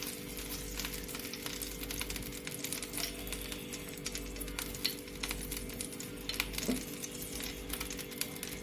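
Ghee heats in a pan with a faint, steady crackling sizzle, broken by a few soft clicks and clinks, and no voice.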